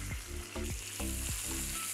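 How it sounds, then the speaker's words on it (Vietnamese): Duck breast frying skin-side down in a pan without added oil, a loud steady sizzle with rhythmic pulses of crackle, no voices. "tôi sẽ cho vịt vào trong chảo để rán"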